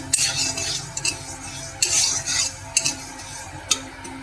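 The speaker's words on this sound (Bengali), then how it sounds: "তারপর দেখুন একটু ভেজে নিচ্ছি।" Spices and mustard seeds being dry-fried in a pan for tamarind pickle, with a spoon repeatedly scraping and clinking against the pan over a light sizzle.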